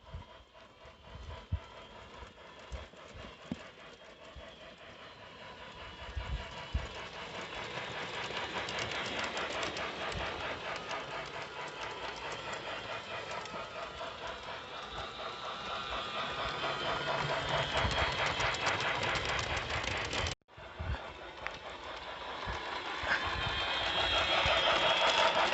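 A small Hornby G scale Harry Potter Hogwarts Express model train runs continuously on its track, a steady rattling clatter with rhythmic clicking that briefly cuts out, then resumes louder.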